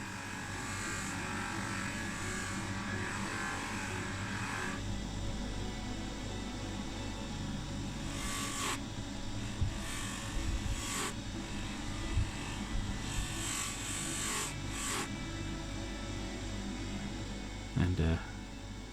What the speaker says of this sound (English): to finalise the buffing process